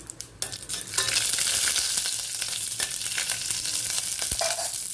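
Cloves frying in hot oil in a pan for Karnataka-style tomato bath, giving a steady loud sizzle with stirring scrapes and clinks throughout, no voices.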